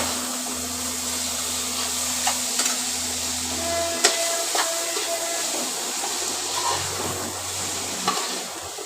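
Half-boiled Maggi noodles go into a hot pan and are stirred, giving a steady sizzle with scraping and tapping of a utensil, close and continuous with no talk.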